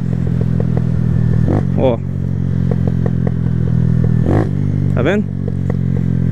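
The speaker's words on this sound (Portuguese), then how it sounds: "vou pegar uma velocidade aqui e vou reduzir sem embreagem pra vocês verem" A motorcycle idling and running steadily up close while the rider downshifts without the clutch, with brief throttle blips and gear shifts standing out over the engine drone. Someone talks briefly over it.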